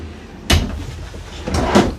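Drawers pulled open inside a Keystone Raptor 444 toy hauler RV, two distinct sliding thuds about a second apart, close and fairly loud, with no talking.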